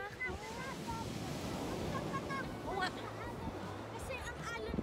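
Ocean waves wash along the shore at Jumeirah Beach in Dubai, a continuous soft surf hiss with wind buffeting the microphone and people chatting faintly in the background.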